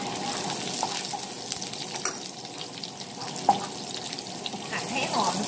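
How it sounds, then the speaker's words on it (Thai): Garlic and chilli fry in plenty of hot oil in a pan, a dense, continuous close sizzle with faint stirring noises and a soft voice talking underneath at moments. "น้ำมันร้อนแล้วเราจะใส่กระเทียมลงไปค่ะ น้ำด้วยพริกนะคะ"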